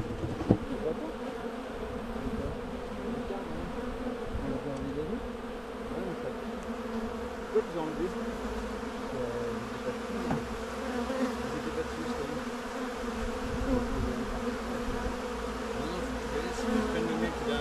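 Honeybees hum steadily around a beehive being readied for winter, a dense continuous droning buzz with faint rising and falling tones, close and moderately quiet throughout.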